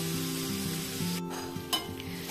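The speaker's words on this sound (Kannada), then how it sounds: "ಮುಂಚೆನೆ ಫ್ರೈ ಮಾಡಿಕೊಂಡ್ರೆ ಆ ಪನ್ನೀರ್ ಕ್ಯೂಬ್ಸ್ ಬಂದು ಒಡ್ಕೊಳ್ಳಲ್ಲ ಅದಕ್ಕೋಸ್ಕರ ಸ್ವಲ್ಪ ಫ್ರೈ ಮಾಡ್ಕೊಳ್ಳೋಣ" Paneer cubes frying in a pan for a ghee roast, a continuous close sizzle broken by scraping stirs and a couple of sharp utensil clicks, with no talking.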